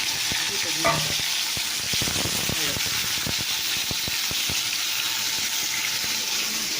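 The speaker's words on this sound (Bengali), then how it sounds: "তো তেল গরম হয়েছে, যেহেতু বেগুন ভাজা চাপিয়ে দিলাম" Eggplant pieces frying in hot oil, a steady bright sizzle with scattered pops and clicks of a utensil, continuous and close throughout.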